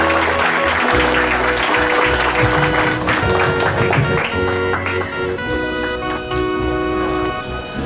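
Sustained applause from the audience at a sports hall of fame induction ceremony, loud and continuous, with musical tones ringing underneath.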